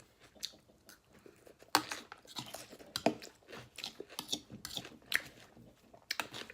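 Lettuce salad being chewed and crunched close up during a mukbang, a run of crisp, irregular bites and mastication noises repeating over several seconds with no talking.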